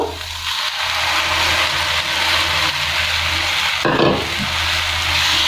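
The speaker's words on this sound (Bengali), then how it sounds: "আমি এখন ঝিঙে বাটা ঢেলে নেব।" Ridge gourd paste hits hot oil and spices in a pan and fries with a dense, steady sizzle. The sound is close and continuous, with a brief softening near the middle before the crackle returns at full strength.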